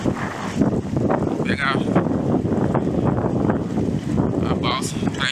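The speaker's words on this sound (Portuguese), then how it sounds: "E o vento não deixa nós desenvolver velocidade." Strong wind buffeting the microphone while mountain biking on a route toward a ferry crossing in Minas Gerais, a loud continuous rushing roar with gusty surges, while someone speaks over it.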